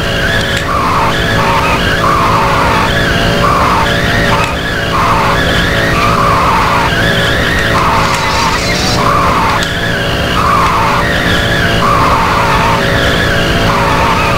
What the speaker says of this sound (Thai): ยางดิฟโคตรสมจริงอะ